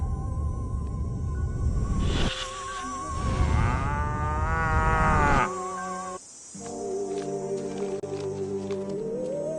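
A cow in the video game Destroy All Humans lets out a long, loud, wavering moo up close, followed by a quieter ambient stretch with a steady hum.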